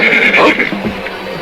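A horse neighs loudly and close in a drama scene, a strained whinny running through the first half second and trailing off into fainter, rougher sounds.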